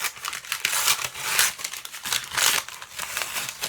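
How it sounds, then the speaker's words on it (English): Butcher paper is peeled and crinkled off the back of vinyl during tile sublimation, giving a steady run of close, loud, papery rustling bursts with no talking. "you're going to take the rest of that butcher paper off the back."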